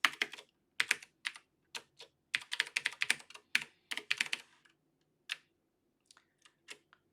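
Keys on a computer keyboard are tapped in quick, uneven bursts of crisp close clicks while a terminal command is entered, followed by a pause and a few final isolated keystrokes.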